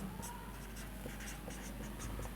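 Someone writes on a board during a class 10 math lesson, making soft, quick strokes and taps in an irregular rhythm over a faint steady hum.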